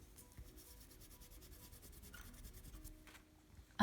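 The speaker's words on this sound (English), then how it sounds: "Erase the pencil lines." An eraser rubbing out pencil lines on paper packaging, a quick, soft, rhythmic scrubbing close by, steady strokes repeating for a few seconds before ending with a brief knock.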